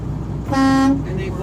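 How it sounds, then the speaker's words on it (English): Truck horn checked in the cab during a commercial vehicle pre-trip inspection gives one short, clear tonal honk of about half a second, with engine rumble and cab noise beneath. "So we have a city horn and an air horn."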